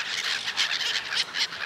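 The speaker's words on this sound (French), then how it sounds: "Il y a des mouettes, il y a des canards, il y a différentes choses." Squawking calls of seagulls and ducks gathered at a quiet outdoor spot, a rapid series of close, fairly loud cries and chatter running continuously with no voices.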